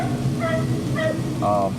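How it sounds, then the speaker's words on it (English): Ribs sizzle on a hot grill in a steady, close, low crackling hiss, with a few brief higher squeaks over the top. "Love to hear that sizzle."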